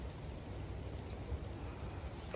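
Rain falls steadily in a backyard, a constant close hiss of drops with no talk over it.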